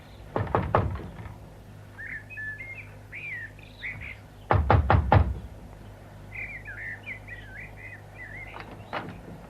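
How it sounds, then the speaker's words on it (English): Knocking on a wooden door in a radio drama: two sharp bursts of three or four loud raps, then a fainter single knock near the end, with birdsong chirping outdoors between them. "Now, better knock just in case."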